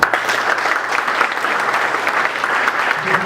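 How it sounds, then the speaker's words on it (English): A crowd at a Boy Scouts of America council event claps loudly and steadily for the Bronx Boy Scouts, a sustained wash of applause with no break. "Can I have a round of applause again?"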